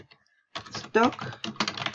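Computer keyboard typing: after a near-silent half second, a rapid run of crisp, close keystrokes clatters on steadily for about a second and a half.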